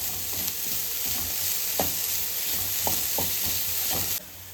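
Grated coconut and jaggery sizzle steadily in a hot pan, a continuous close hiss with occasional scraping stirs of a spoon, ending in a sudden drop as the sound cuts off; no talking.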